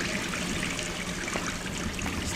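Water left running in a house in the exploration game Gone Home, a steady soft trickle and splash, faint and continuous with no talking.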